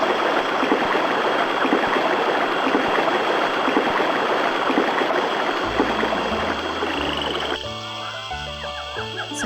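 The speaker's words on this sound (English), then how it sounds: "And you can't go through the waterfall for some reason." Steady rushing waterfall noise in a fantasy role-playing video game, a dense continuous roar that fades as game music with simple tones takes over toward the end.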